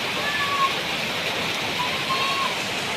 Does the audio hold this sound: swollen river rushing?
yes